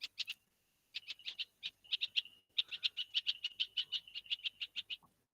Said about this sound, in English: Now this is a call of the mobbing red-vented bulbul because he was having his nest